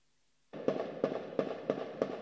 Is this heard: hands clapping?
no